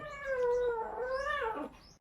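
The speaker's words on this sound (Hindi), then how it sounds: "बिल्ली के बच्चा।" A kitten gives one drawn-out, wavering meow, close and clear over quiet background noise, tailing off near the end.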